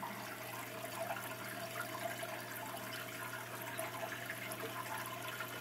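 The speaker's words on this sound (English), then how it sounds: "There's a lot of water going to this bed right now." Water pours steadily into an aquaponics grow bed as it fills, a continuous rushing, splashing flow with a faint low hum beneath, close and even throughout with no talking.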